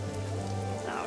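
Soft, steady rain patter over a low constant hum, faint and continuous for a brief moment, in a video game.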